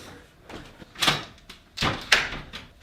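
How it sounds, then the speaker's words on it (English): An indoor door swinging shut in a home office, with two or three close knocking thumps and a brief latch click, loud against a quiet room and no talking. "Door closed"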